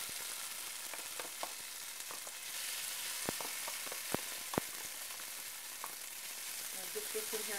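Leftover caramelized onion, about one onion's worth, reheats in oil in a pan with a steady soft sizzle and scattered pops and crackles throughout, moderately quiet and without talk.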